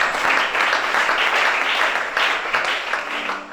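A church congregation at a Gabonese worship service bursts into sustained applause, a dense and steady wash of many hands clapping that fills the room at a roughly even loudness throughout.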